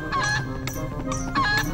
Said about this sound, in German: Blöder Gockel.